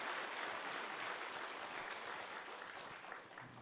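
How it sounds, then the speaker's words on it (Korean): A church congregation applauding a choir during a Sunday service, a dense wash of clapping that stays loud and even before easing slightly at the end. "와, 박수."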